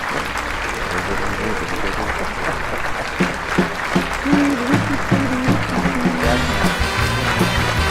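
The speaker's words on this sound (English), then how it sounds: "Round of applause." An audience breaks into applause, a dense, steady wash of clapping that swells slightly toward the end, with voices and some tonal sound mixed underneath.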